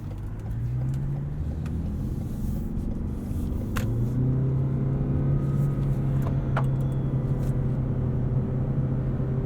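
Lexus NX 300h hybrid creeping along at low speed in electric eco mode, a steady low rumble and faint whine of tyres and motor, with a few soft clicks and distant bird coos in the background.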